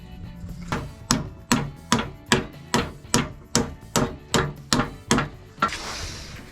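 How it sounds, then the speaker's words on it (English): Sheet steel is hammered to bend up the sides of a fireplace shovel, with about a dozen sharp, ringing metallic strikes at a steady, regular pace, close and loud, ending in a short scraping noise. "So what I'm going to do is bend along these lines, bend these two sides upwards and then this side upward"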